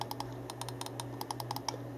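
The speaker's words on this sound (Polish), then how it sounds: "Jak słyszycie, klika dość cicho." Buttons on a Cm Storm Reaper aluminium gaming mouse clicking quietly, a rapid irregular series of soft close clicks over a low steady hum.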